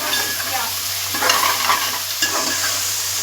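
Crushed chilies and salt sautéing in a pan while being stirred, a close, bright sizzle with scraping stir strokes breaking through it; no one speaks.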